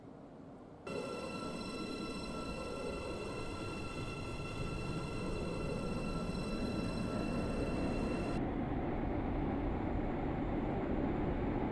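A video-game train (Roblox) rumbles on continuously, with a sustained high whine over the running noise that cuts out partway through while the rumble carries on.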